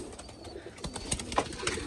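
Breeder pigeons kept for sale coo nearby in soft, repeated throaty calls over a rustling background, with no talk.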